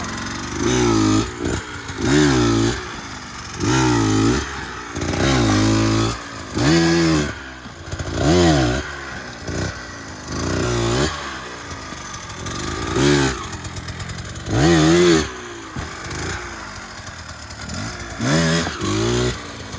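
A dirt bike engine revs over and over while the rider practises 180 wheelies, working throttle and clutch together. About a dozen loud, close rising rev bursts alternate with brief idle dips in a steady rhythm.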